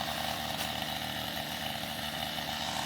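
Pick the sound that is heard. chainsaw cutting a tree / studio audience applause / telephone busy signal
chainsaw cutting a tree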